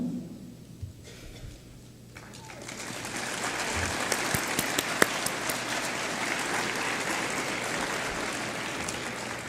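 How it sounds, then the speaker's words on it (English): A civic audience at a State of the City event applauds the city's department directors, steady clapping that swells in after a quiet start and holds at a moderate, slightly distant level. "If you guys could please stand and be applauded for all of your hard work as well."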